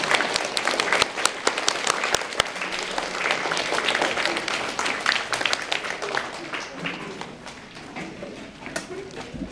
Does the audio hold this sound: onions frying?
no